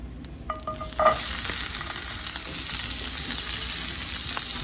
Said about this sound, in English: I start with adding a little bit canola oil, 1 big onion cut into small pieces